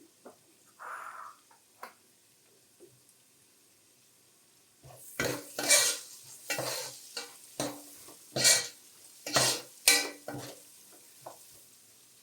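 Onions frying in a pan for prawn biryani. It starts quietly, then a spatula scrapes and stirs in loud, rhythmic strokes over a soft sizzle.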